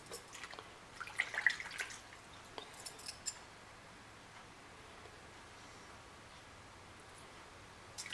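Outboard carburetor parts from a Mariner Force 70 HP motor rinsed in water, faint soft drips and small splashes clustered early, then quiet close-up rustling.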